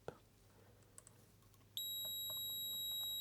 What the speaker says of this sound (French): Là, ça bip.